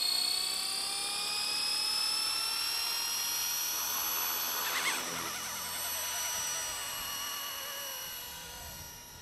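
Blade 230S V1 RC helicopter flying in a park, its high whining rotor and motor tones held steady and fairly loud, shifting slightly in pitch as it moves, with no talking.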